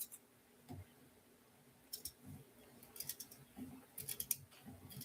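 Quiet, close snips of scissors trimming material for a fall pumpkin wreath, a few isolated clicks at first, then a quicker cluster of crisp snips toward the end, with no talking.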